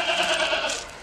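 A big castrated Gujri goat, two-toothed and about 40 inches tall, lets out a single nasal bleat lasting about a second, fairly close and loud, with no talking over it.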